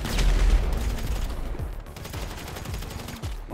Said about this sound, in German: ich schieß hier